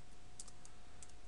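Quiet typing of a terminal command on a computer keyboard, a few faint, sparse key clicks over a steady low hum.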